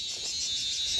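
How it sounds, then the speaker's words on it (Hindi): Crickets chirp in the evening in a village near Jim Corbett, India, a steady, high-pitched pulsing trill, fairly faint, with no other sounds. "ये देखो क्रिकेट्स की आवाज"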